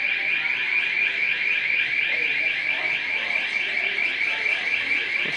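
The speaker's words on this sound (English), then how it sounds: "The alarm's going off" Electronic alarm sounding in a dark, empty Wegmans supermarket during a power outage, a loud, steady, rapidly pulsing high beep that continues unbroken throughout.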